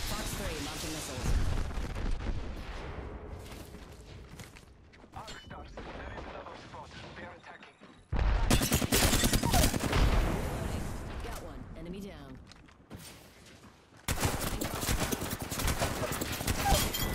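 Valkyrie unleashing her missile barrage in Apex Legends: loud, sharp blasts in clustered bursts with gunfire-like cracks, over busy game noise and a voice talking.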